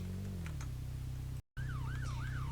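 A police siren in a thief-versus-police video game. A steady low engine hum drops out briefly, then a wailing siren rises and falls repeatedly over it.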